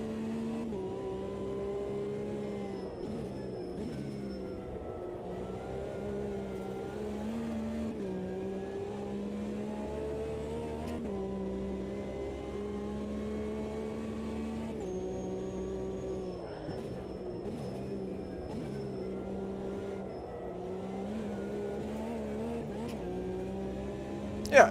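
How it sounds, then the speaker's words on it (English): Porsche Cup race car in a racing video game, engine holding a steady high-revving drone with repeated gear shifts and pitch dips as it brakes and accelerates, sustained for about 25 seconds with faint talk. "Yeah, it's a Porsche Cup."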